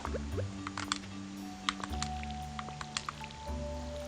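Crops being watered with a watering can in the farming game Stardew Valley: soft splashy squishes and drips repeat in quick, irregular bursts over a low game-music background, with no talking.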